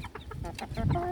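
Two-month-old Bangkok chickens cluck in a backyard pen at a housing estate, a quick run of short, close clucks and chirps over low background noise.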